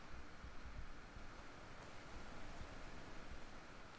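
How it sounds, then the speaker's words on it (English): A small waterfall in the video game The Witness gives a faint, steady rushing wash of water, continuous and even throughout with no voices. "Leads me to this nice little waterfall"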